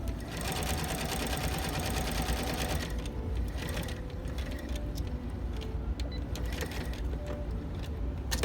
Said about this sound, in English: you want to sew up to that very place